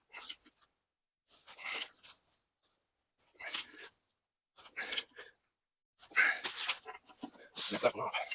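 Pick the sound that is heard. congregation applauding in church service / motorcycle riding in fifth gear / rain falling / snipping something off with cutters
snipping something off with cutters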